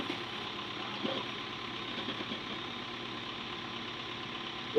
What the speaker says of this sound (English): the asphalt machine and the asphalt team heading to Cedar Valley.